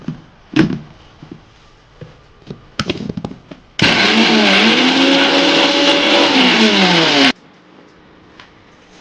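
A mixer grinder grinding chutney roars loudly for about four seconds, its pitch wavering as it runs, after a few scattered clinks and taps, then cuts off abruptly.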